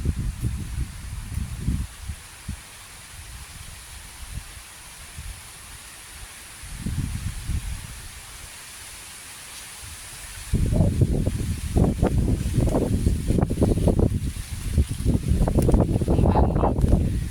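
Gusty wind rustling through leaves in a Philippine countryside with water buffalo nearby, with low rumbling buffets on the microphone that grow stronger and steadier in the second half.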